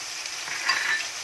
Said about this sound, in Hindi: अब इसमें मसाले डालेंगे, जीरा और जो ये खड़े मसाले थे, तेज पत्ता, मोटी इलायची, लौंग और दालचीनी।